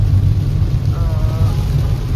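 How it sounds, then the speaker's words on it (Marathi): Heavy monsoon rain heard from inside a moving car on a road near Thane during a Mumbai to Lonavala trip, a dense steady roar mixed with low road and engine rumble. "पाऊस प्रचंड पडतोय"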